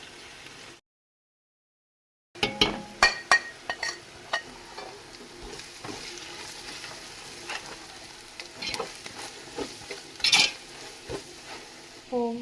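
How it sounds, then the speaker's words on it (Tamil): Masala powders roasting and being stirred in a pan for beef biryani: a steady close sizzle with scraping spoon strokes and occasional clinks of metal against the pan, no talking. "நம்ம போட்ட மசாலா வந்து ஆல்ரெடி ரோஸ்ட் ஆயிடுச்சு"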